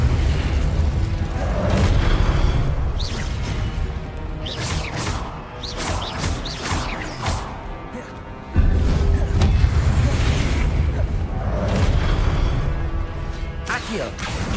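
Fire spells and other magic effects cast in Hogwarts Legacy, a rapid string of bursts, booms and crackling impacts, loud and close, with a voice calling out incantations over the effects.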